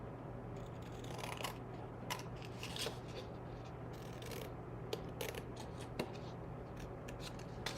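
Scissors taper-cutting small tab ends from cardstock pieces for a birthday box craft, giving a steady series of close, soft snipping and rasping cuts at an even pace with no talking.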